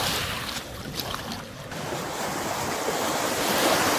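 Small waves wash onto the Thames foreshore in a rough, broadband surge that swells toward the end, with wind buffeting the microphone throughout.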